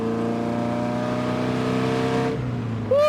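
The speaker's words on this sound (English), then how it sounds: "the road opens up a little bit here, and I just want to squeeze the throttle a little bit." Morgan Plus 4 engine pulling hard on an open road, a loud steady droning roar with strong harmonic tones that drop away near the end as a gear change follows, heard close from the cockpit with no talking.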